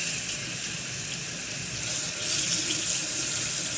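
Water runs steadily from a sink tap during face washing, a continuous close hiss and splash that swells slightly partway through, with no talking.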